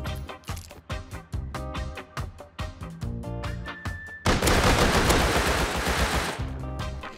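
Rapid bursts of gunfire in the survival game Rust, with sharp, evenly spaced shots followed by a dense, continuous volley near the end.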